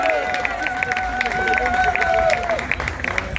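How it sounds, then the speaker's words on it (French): Applause from an audience at a feria in Nîmes, sustained clapping and crowd noise throughout under a steady tonal sound that fades near the end. "encore des applaudissements pour Grégory."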